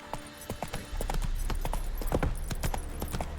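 Hooves of Roach, the horse in The Witcher 3: Wild Hunt on PC, clip-clop in a steady galloping rhythm, loud and close, over a continuous low game rumble.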